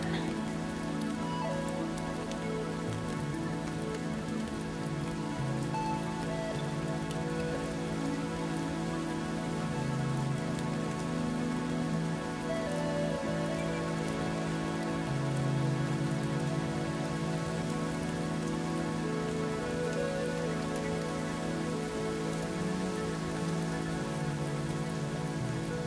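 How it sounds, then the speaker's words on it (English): Steady, even rainfall pattering on a surface without a break, with a constant low tonal hum beneath it throughout. "Now focus on your breathing and listen to the rain."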